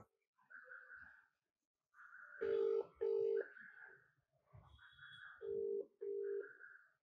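A phone ringback tone repeats in paired bursts with pauses between, steady and clear, with faint background noise and no voices.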